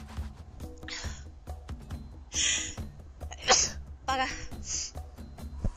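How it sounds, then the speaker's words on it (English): A person sneezes during a Crash Bandicoot N. Sane Trilogy live-stream, with a few sharp bursty sneezes and gasps at close range between breathy pauses. "I'm gonna sneeze."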